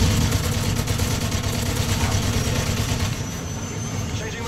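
A helicopter in the Modern Warfare 3 shooter game thrums with a continuous low rotor and engine drone, loud and steady, fading slightly toward the end.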